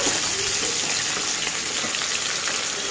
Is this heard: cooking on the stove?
yes